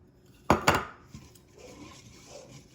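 Dough ingredients for holiday dinner rolls are being mixed in a bowl: two sharp utensil clinks against the bowl, then softer scraping and stirring sounds, close by with no talking.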